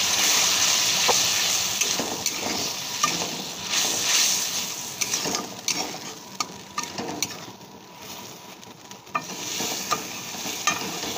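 Spice-washing water is poured into a hot cooking pan, producing a loud continuous sizzle and bubbling hiss with scattered stirring clicks, steady throughout and close up, no talk.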